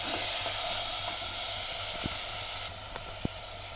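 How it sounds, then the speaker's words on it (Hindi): Chopped tomatoes fry in a pan over a medium flame for a turnip and pea curry, giving a close, continuous sizzling hiss that drops slightly near the end, with a few faint clicks. "टमाटर को भी मीडियम फ्लेम पर मैं 4 से 5 मिनट तक इसको पकने तक हम इसको भूनेंगे"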